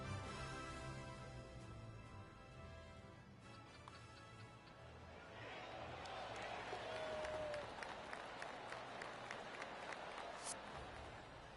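A 2K Sports video game crowd applauding, a steady wash of clapping and crowd noise that swells midway, with a voice talking over it.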